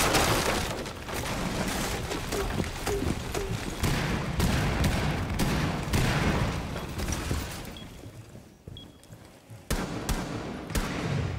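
Rapid gunfire in the shooter video game, with a dense run of sharp shots and bursts followed by a brief lull and a few more scattered shots, all fairly close and loud.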